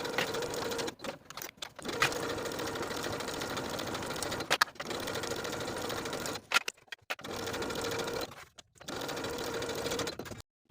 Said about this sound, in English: Sew the side and top edges of the collar together with a 5/8 inch seam allowance.